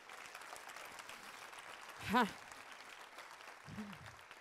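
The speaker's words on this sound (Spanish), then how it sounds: "Dale ese aplauso que es para él." Scattered applause from a church congregation during a sermon, broad and fairly soft, with a voice cutting in briefly over the clapping midway and again near the end.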